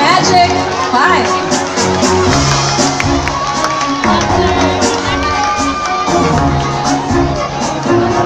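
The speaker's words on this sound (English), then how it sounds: "Ladies and gentlemen, let's give a round of applause for your Magic Five." Pageant audience at a coronation night cheering and applauding as finalists are introduced, loud crowd shouts and whoops over clapping with music and hubbub beneath.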